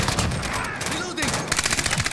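Bursts of SCAR rifle gunfire in the Modern Warfare shooter, rapid repeated shots that are loud and close, breaking off briefly before another quick string of shots.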